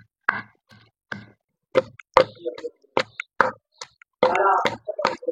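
Dal with fennel and cardamom is pounded in a stone mortar, producing sharp, irregular thuds and knocks close by, separated by short silences.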